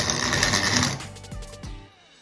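A small mill grinds dry, hard corn kernels with a loud, dense mechanical crunching and rattling that runs for about a second, then breaks into a few separate knocks and clanks before fading out.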